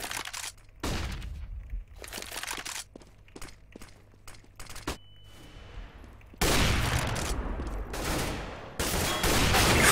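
Gunfire in the video game Counter-Strike: Global Offensive, with bursts of shots and sharp cracks through the first half, then a louder, denser stretch of continuous firing toward the end.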